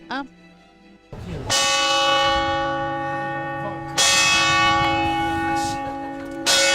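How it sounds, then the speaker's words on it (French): Loud church bells ring directly overhead in a Venice bell tower, sustained, overlapping clangs that swell again partway through, after a brief softer tone at the start. "Le son des cloches éclatant juste au-dessus de nos têtes a provoqué un vacarme assourdissant"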